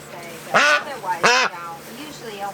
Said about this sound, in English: That's the last duck.